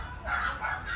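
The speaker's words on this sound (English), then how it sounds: "sorry about the dogs" Dogs at a home bark and yip in a short burst of high, excited sounds, moderately close, with no talking over them.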